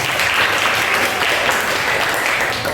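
Classroom of students clapping for a student group after its presentation, a loud, continuous patter of many hands that stays even and sustained from start to finish.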